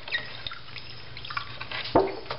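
Dirty water from a frog's container being poured out, with faint drips and trickles and a louder splash near the end, quiet overall.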